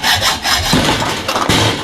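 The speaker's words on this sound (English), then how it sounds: "So instead, we'll just cut it off with the hacksaw" A hacksaw cuts through a part of a water heater being broken down for scrap, making loud, close, rapid back-and-forth rasping strokes in a fast, even rhythm.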